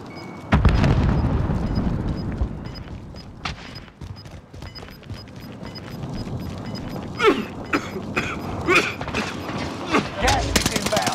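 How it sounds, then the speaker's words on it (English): A grenade blast booms in Call of Duty: Modern Warfare amid mechanical clatter, rattling gunfire and later sharp bursts, with voices calling out over the combat. "A grenade."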